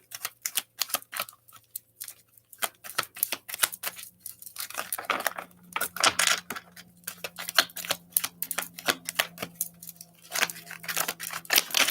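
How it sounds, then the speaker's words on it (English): Cards are shuffled in quick bursts of crisp clicking and riffling flicks, pausing briefly between rounds, close up with a faint hum beneath. "I'm just going to keep shuffling until the perfect card comes out for you"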